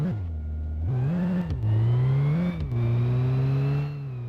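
A BMW's engine in the driving game My Garage revving up and down several times, a loud close tonal whine rising and falling in pitch before settling into a steady drone that cuts off.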